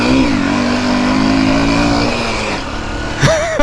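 A Yamaha MT15 motorcycle revs hard and accelerates, its engine note climbing steadily at close range and then surging sharply near the end, with no talk over it.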